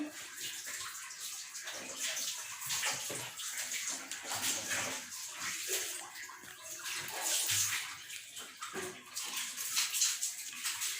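Cinnamon being washed in water for a pomelo jam, with steady sloshing and splashing close by, continuous and fairly loud throughout, with no talking.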